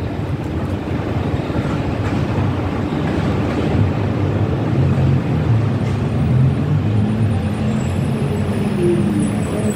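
A vehicle on a city street, not a route 14 one, rolling past with a steady, loud, low rumble that holds throughout with no voices.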